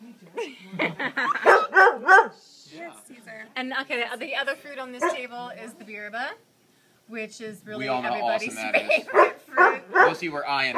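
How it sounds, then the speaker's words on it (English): A dog barks in short bursts at a Costa Rica fruit farm, partly buried under steady close-up talk from a man describing fruit. "That's our dog"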